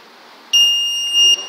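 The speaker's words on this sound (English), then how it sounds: "That buzzer sound indicates your vehicle overspeed detection." A vehicle's over-speed warning buzzer sounds a sharp, high electronic tone abruptly and holds steadily for nearly a second before cutting off.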